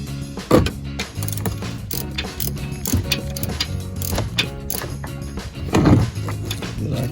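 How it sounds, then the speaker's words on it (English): A 3/8-inch ratchet and socket loosens the oil drain plug on a 2005 Nissan Altima 3.5, a close, rapid train of clicking pawl ratchets with a few heavier clunks. "3/8 ratchet socket."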